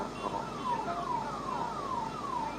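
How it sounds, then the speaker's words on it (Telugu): An ambulance siren wails in repeated rising and falling sweeps as it pushes through a crowd at an election rally, fairly distant and steady throughout. "అంబులెన్స్ ఓనియండి, తమ్మి జరగండి సార్."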